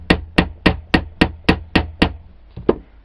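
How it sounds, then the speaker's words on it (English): Lump hammer lightly tapping an 18V Snap-on battery cell on an anvil during a re-cell repair: nine evenly spaced sharp metallic taps in a steady rhythm, close and clear, then a short pause and two softer knocks. "You place it on the anvil or lump hammer as I'm using and just tap gently a few times"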